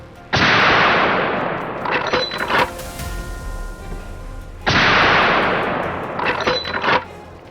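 Two loud, close rifle gunshots fired while hunting a warthog, each a sharp crack followed by a long decaying echo and a clattering action in between, with a low rumble in the gap.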